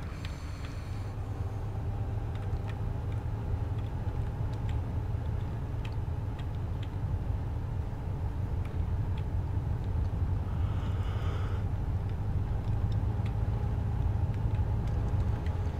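Army truck driving along a road in a video game, hauling a Dodge Ram; a steady low engine drone with faint ticking runs continuously, moderately loud, with no talk.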